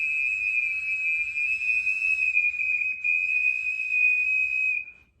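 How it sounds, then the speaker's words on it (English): An ancient Peruvian clay whistle, deliberately out of tune with two pitches, sounds as one steady, piercing high tone with a faint beating waver, held for about five seconds before it stops. "It's a whistle."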